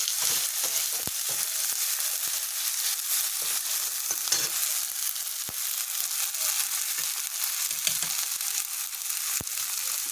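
Slit green chillies fry in hot oil with salt for a vegetarian fish-style dish, a loud continuous sizzle crackling throughout, broken by occasional sharp ticks of stirring.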